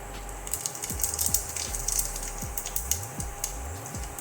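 Faint, irregular crackling and popping of seeds in hot oil, with soft scattered ticks and no voices.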